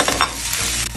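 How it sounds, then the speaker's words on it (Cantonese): Black goat lamb stir-fried in a hot wok, sizzling steadily with the scrape and clatter of stirring throughout, close and fairly loud, no talk. "攞落去兜香佢先"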